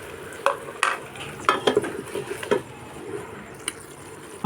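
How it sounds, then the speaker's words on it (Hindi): Ground onion frying in hot ghee, a steady sizzle with a run of wet stirring scrapes and knocks, close up and without talking. "घी हमारा गर्म हो चुका है, अब डाल देंगे प्याज।"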